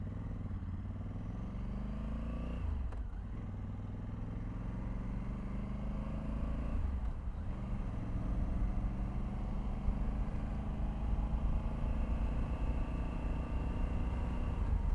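A Honda Africa Twin Adventure Sports motorcycle being ridden, its engine droning steadily and close throughout, with harmonic pitch sweeps as revs rise and fall through two gear changes, plus constant wind rumble.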